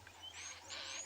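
A roller bird gives a harsh, grinding call on a morning safari at Ngala Private Game Reserve, two faint raspy bursts heard from a distance over a low steady hum.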